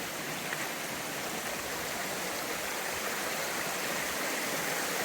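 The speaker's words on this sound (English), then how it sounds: "Looks like a nice placid little waterfall" A small waterfall on a mountain stream pours in a steady, even rush of splashing water, close by and unbroken with no voices.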